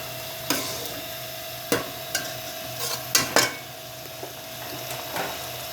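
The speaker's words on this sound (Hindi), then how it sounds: "आलू दोबारा इसी पेस्ट में भून लेते हैं।" Potatoes stirred and fried in a masala paste in a pan, with a few scattered spoon scrapes and clinks over a faint background sizzle, moderately close and without speech.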